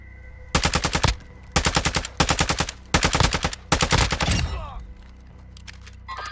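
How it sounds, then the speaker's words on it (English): Automatic gunfire in Call of Duty Warzone DMZ, five loud sustained bursts in quick succession with short gaps between them, followed by a fading rumble and quieter game sounds. "Enemy fire here."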